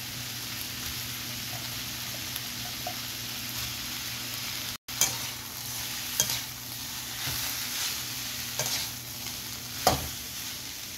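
Soya chunks tip into a pan of frying vegetables with onion stalks and ginger-garlic paste, then sizzle steadily under repeated scraping stirs, with a brief pause before the stirring resumes, close and moderately loud.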